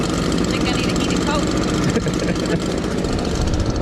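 A leaf loader's engine runs steadily while warming up on a cold day, a loud continuous droning idle close by, with voices talking over it.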